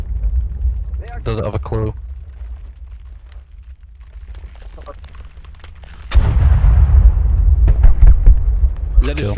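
An enemy tank being destroyed in the military shooter Squad on a snowy map: after quiet talk and distant rumble, a sudden loud explosion erupts and rolls into a sustained heavy roar with crackling debris.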